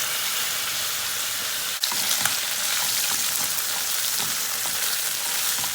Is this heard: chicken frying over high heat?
yes